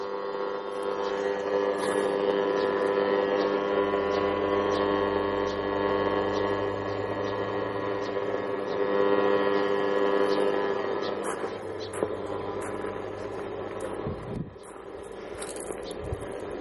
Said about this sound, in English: This is the dimmer in the kitchen.